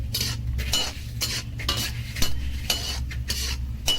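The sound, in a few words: pumpkin seeds frying in pan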